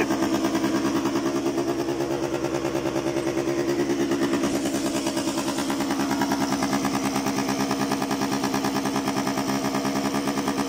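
A Honda Dio scooter engine with an idle problem runs after its carburetor has been primed with petrol, producing a steady, close, rattling two-stroke putter at an even idle with no revving.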